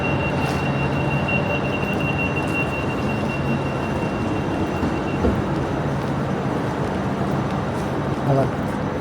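A Class 458 electric multiple unit train on a long service towards Hampton Court rumbles past close by as a steady, loud rolling roar with a faint high whine, and a voice speaks briefly over it.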